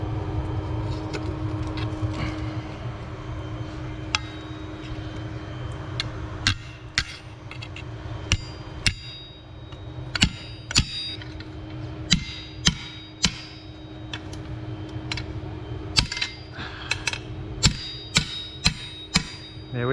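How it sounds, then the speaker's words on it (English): Steel being flattened by hammer blows for a homemade skinning knife: sharp metallic strikes, irregular at first then coming in quicker clusters, ringing out over a steady low background hum. "This is the process I always use for flattening out steel"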